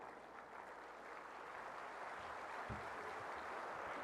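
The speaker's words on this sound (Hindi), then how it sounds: "आपकी तालियां बता रही हैं" An audience applauds at the inauguration of a Haryana government portal by the Chief Minister. The clapping is a faint, steady wash that holds evenly throughout.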